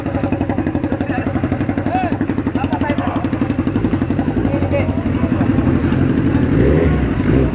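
A Suzuki Bandit 1250 motorcycle idles nearby with a steady, rhythmic low throb throughout, its engine note swelling slightly near the end.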